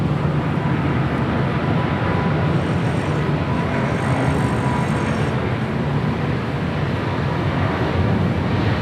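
Steady broad roar of aircraft at Los Angeles International Airport (LAX), a continuous loud rumble running unbroken throughout with no pauses.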